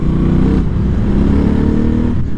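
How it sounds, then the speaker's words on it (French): Motorcycle engine with stock exhaust rumbling and revving steadily at close range, a continuous low throaty drone that holds loud throughout with a slight dip partway. "jusqu'à 85 on entend encore bien le son de sa moto pour les pots d'origine"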